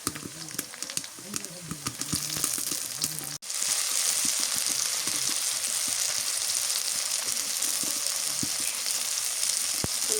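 Chili paste hits hot oil in a pot for chicken khichuri with broken rice and chickpeas, and after a sharp crackle a loud, steady broadband sizzle follows, close and continuous, with some stirring and faint voices early on.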